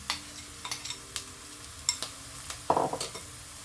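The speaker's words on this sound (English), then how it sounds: "I've got some garlic left, which I'll just add in now" Garlic hits softened onions in a hot pot, sending up a soft continuous sizzle broken by several sharp clinks and scrapes of a stirring spoon, with one louder burst of stirring near the end.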